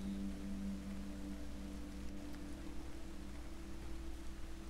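Soft, steady rain hiss from the survival video game Radiation Island, a faint continuous wash with low hum underneath and no voices.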